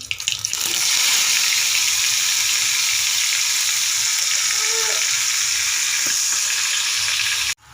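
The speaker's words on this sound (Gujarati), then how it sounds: "હવે લીમડો નાખશું હવે આપણે જે ડુંગળી લસણની ગ્રેવી કરી હતી એ ગ્રેવી નાખી દઈશું" Onion and garlic gravy poured into hot oil tempered with asafoetida and curry leaves, for a dried val bean curry, sets off a loud, steady, close sizzle that holds evenly to the end.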